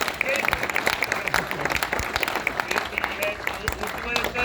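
Live audience at a stage comedy show in Jaipur breaks into steady applause, dense clapping that fills the whole stretch at moderate loudness, with a performer's voice carrying over it.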